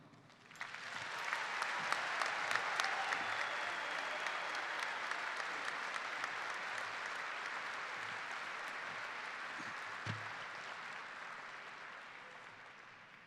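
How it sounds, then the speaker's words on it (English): At a 2021 high school commencement ceremony, a large crowd applauds the graduating class with a steady, dense wash of clapping that swells after a second and holds evenly, fairly distant, for the rest of the span. "please give a huge round of applause to the class of 2021"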